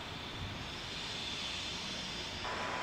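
A jet airliner comes in to land on runway 34 right at Salt Lake City, its engines a steady distant roar with a thin high whine, unchanging over a few seconds.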